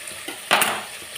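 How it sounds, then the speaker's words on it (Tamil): Onions sautéing with rock salt in a pan for fish kulambu give a brief burst of sizzling and stirring, rising sharply midway and then settling into a soft, steady frying hiss. "வெங்காயம் வதங்கட்டும்."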